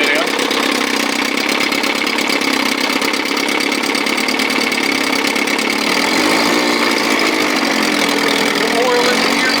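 A 1957 Sea King 5 hp outboard motor runs steadily at low throttle, a continuous buzzing drone that holds constant throughout with a slight wavering pitch, close and loud.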